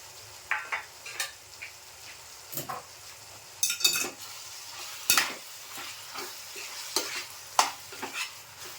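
Finely chopped tomatoes stirred into a quick chicken masala, intermittent scraping and clinking strokes of a spoon against the pan over a low sizzle, irregular and close, no talk.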